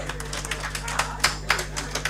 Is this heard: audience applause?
yes